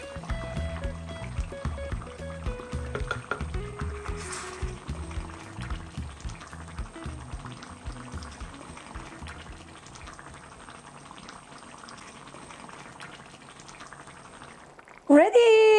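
Soft tofu stew with green onion and green paprika bubbles in a traditional Korean pottery pot, a steady close burble under a talking voice, with a louder burst of noise at the end.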